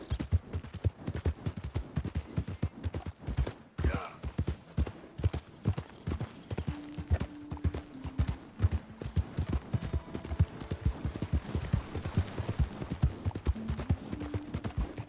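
Roach the horse trotting in Red Dead Redemption II, a steady rapid clip-clop of hooves throughout, close and fairly loud, with faint ambient tones underneath and no talk.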